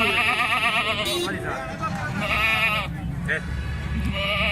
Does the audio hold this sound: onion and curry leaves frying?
no